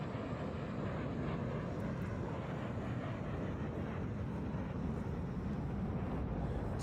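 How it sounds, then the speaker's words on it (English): A huge airplane flying low overhead, its engines giving a continuous deep broadband roar that stays loud and steady throughout, with no voices. "The world's largest airplane?"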